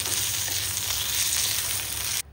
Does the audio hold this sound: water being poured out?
no